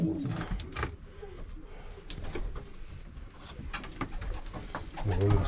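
Pigeons cooing inside a home pigeon loft where young birds are being banded, soft low coos recurring through the clip amid rustling and handling noise, with a few brief voices nearby.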